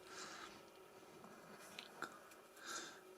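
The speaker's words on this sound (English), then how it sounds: "Nice crunchy banana." Dried banana from a Polish 2022 combat ration is bitten and crunched close to the mic, a few soft crisp crunches spread over a quiet moment.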